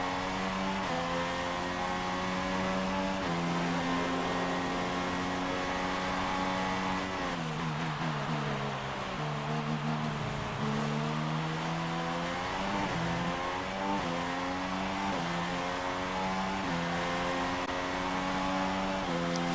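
Formula 1 race cars in the F1 2016 racing game accelerating back up to speed, with loud, steady high-pitched engine whine rising through the gears in repeated upward sweeps, alone without talk.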